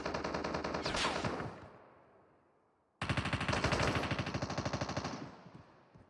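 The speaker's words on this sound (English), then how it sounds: "Ryuni trying to shoot at 8" Sustained automatic gunfire in Call of Duty Mobile: two loud, rapid bursts, the first tailing off into a fading echo before a short gap, then a second long burst that carries on steadily to the end.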